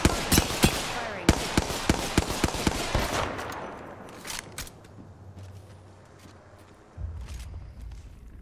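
Gunfire in the Apex Legends battle royale game: a rapid burst of loud, sharp automatic shots over about three seconds, followed by a few scattered distant cracks and low rumbling as the firing tails off.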